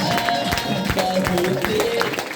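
Audience at a DXN program in Bhagwanpur, UP, India, standing and clapping loudly: dense, sustained applause with crowd noise and scattered cheers, close and full throughout.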